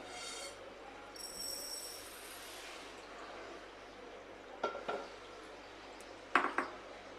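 Roasted flaxseed is scooped out of a pan into a jar, soft rustling with scraping, then a few sharp clinks and taps of metal against the pan and jar, quiet and close with no speech.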